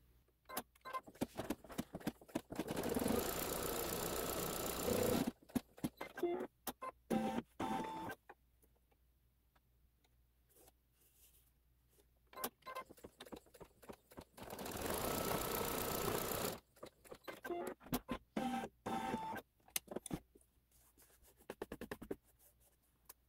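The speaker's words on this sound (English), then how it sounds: "Now it's going to go, and it's going to stitch on the outside." A sewing machine stitches the outline of a Santa's Workshop quilt block, running in two long steady whirring bursts separated by pauses with small clicks and handling noises, fairly close.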